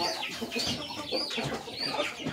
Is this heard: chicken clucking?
yes